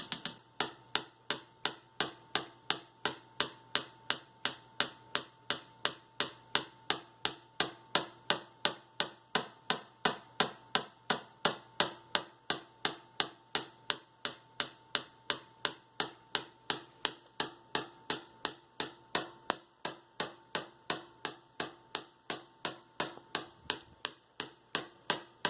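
Solid-state Tesla coil with a PLL-driven full bridge running on 120 V AC mains at about 180 kHz throws arc discharges in a loud, steady train of sharp crackling snaps, repeating rapidly and evenly for the whole stretch with no voices.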